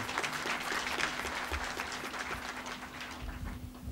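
A ministry audience at a New Year's greetings ceremony for Minister Adama Coulibaly breaks into steady, fairly quiet applause, many hands clapping together throughout, with a faint hum beneath.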